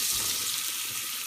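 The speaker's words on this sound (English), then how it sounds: "And I'll stir to make sure they're good and coated with the spices and the oil." Vegetables frying in spiced oil while being stirred, giving a steady bright sizzle throughout with soft scraping underneath, fairly quiet and close.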